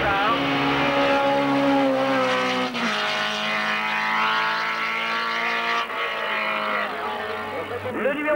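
Benoît Lemoine's rally car launches its run at the 1993 Forêt Auvray hill climb, the engine roaring loud and close with rising revs and gear changes while a commentator talks over it.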